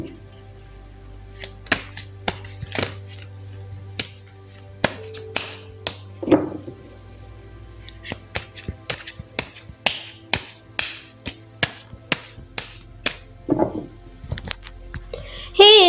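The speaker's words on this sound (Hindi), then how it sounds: "चलिए पहले ज़रा कार्ड्स को शफल कर लेते हैं" Tarot cards being shuffled in the hands, sharp snapping riffles and taps in irregular bursts, close and crisp, with a low hum between them and a brief voice near the end.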